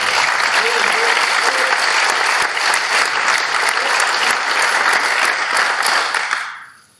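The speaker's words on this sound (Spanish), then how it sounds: "un aplauso para que me reciban." An audience at a lecture event claps in loud, sustained applause to welcome a speaker. The applause holds steady for several seconds, then quickly dies away.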